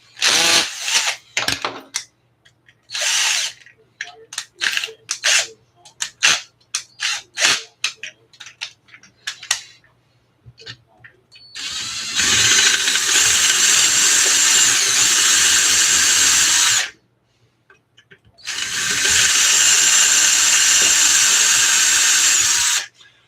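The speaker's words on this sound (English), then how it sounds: "So first we drilled the holes." A power drill bores holes for an ARRMA Kraton RC car motor mount, first in short bursts and clicks, then in two long, loud, steady whining runs with a pause between, close up and without speech.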